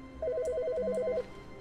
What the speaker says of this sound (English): Which phone's ringing?